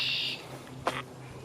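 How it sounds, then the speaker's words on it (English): Outdoors in the woods, a red-winged blackbird gives a brief buzzy trill followed by a short, sharp call note, moderately distant against quiet background noise. "Hey, red-winged blackbird."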